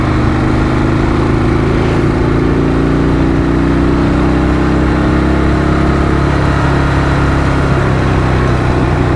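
A Harley-Davidson Dyna Wide Glide motorcycle engine rumbles loud and close while riding, a steady deep throb with a gradual rise in pitch as it pulls along, with constant wind noise.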